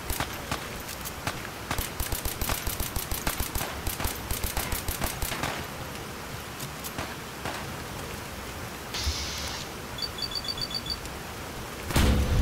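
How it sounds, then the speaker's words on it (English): Rapid bursts of gunfire from a Fallout 4 battle, a dense string of automatic shots in the first half, thinning out later, with a short high-pitched electronic tone near the end and a heavier thump at the close. "Oh, that's terrible shooting."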